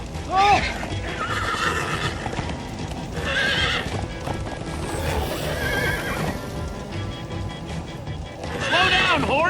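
Horses gallop with rapid clip-clop hoofbeats and neigh loudly several times in Minecraft Story Mode, against a busy game soundtrack with voices talking over it.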